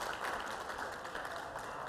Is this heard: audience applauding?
yes